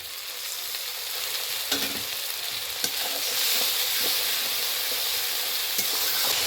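Ginger, cumin and dry chilli paste sautéed with spices in a pan sizzles and fries steadily, with the scrape and clack of stirring breaking through now and then, close and continuous with no talking.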